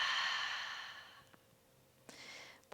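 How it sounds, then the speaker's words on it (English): A long, slow exhale breathed out through the mouth during a calm relaxation exercise, soft and close, fading gradually, followed by a quiet breath a moment later. "Long exhale out through the mouth."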